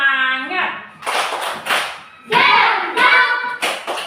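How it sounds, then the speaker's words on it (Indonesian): Children in an Indonesian classroom clap in short rhythmic bursts alongside a teacher, with chanted and spoken voices alternating between the groups of nearby handclaps. "kita memberi tepuk tangan karena anak-anak semua hadir"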